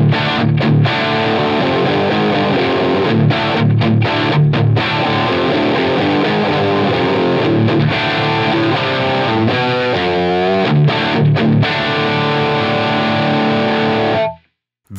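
Heavily distorted electric guitar chords through a Helix amp model ring out loud and sustained, with a few brief choppy breaks, before cutting off abruptly at the end.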